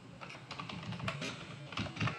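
Quick, close typing on a computer keyboard, a busy run of soft clattering keystrokes over about two seconds, fairly quiet and uneven in rhythm, with no talk.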